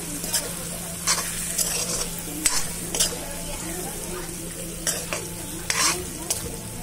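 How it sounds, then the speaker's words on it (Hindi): A spoon stirs spinach saag with salt in a hot pan. Several short scraping strokes come over a steady close sizzle. "हम इसमें नमक डाल देंगे, इसको मिक्स कर देंगे।"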